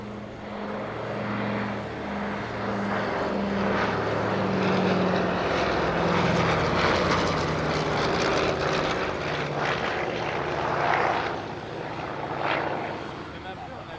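Propeller aircraft flying a formation flypast at the Air Legend airshow at Paris-Villaroche, a loud, steady droning engine roar with pulsing low tones that swells and fades slightly over the pass.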